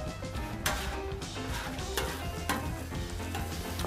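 Garlic sizzles steadily in a pan with onions and mushrooms beside a grilled ribeye, a dense crackling fry with occasional scrapes and clinks of stirring, close and moderately loud.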